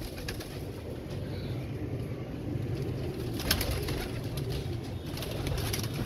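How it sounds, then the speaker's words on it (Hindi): Laal pari pigeons coo in low, soft, rolling murmurs amid a continuous dense flock ambience, moderately close with no voices. "Ye laal pari kabutar hain dosto."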